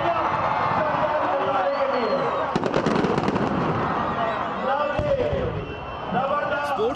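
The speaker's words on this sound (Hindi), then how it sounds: "बाज़ाब्ता ऐलान के बाद शानदार आतिशबाजी का मुजाहरा किया" Fireworks bursting at the opening of a sports festival in Lyari, crackles and booms spread through a crowd's noise with a steady roar of people underneath.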